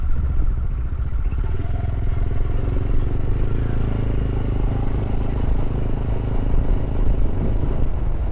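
Steady motorcycle engine drone with rumble and wind while riding outdoors, captured on an Insta360 Ace Pro 2 action camera, continuous and close throughout with no talking.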